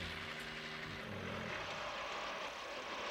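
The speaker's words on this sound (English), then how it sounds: "Oh, a big old helicopter." A large helicopter in a film scene roars steadily, its rotor and engine noise forming a broad, constant wash that sounds somewhat distant and muffled, with no talk over it.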